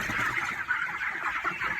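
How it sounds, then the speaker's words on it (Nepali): Chickens in a pen cluck and murmur softly while drinking water, a steady close chorus of low clucks with no voices. "कुखुरा खरमा ट्याक्क यस्तो मजाले कुखुराहरू पानी खाइरहेको छ"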